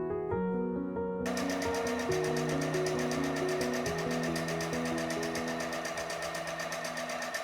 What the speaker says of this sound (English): finish the seam with a zigzag stitch to prevent fraying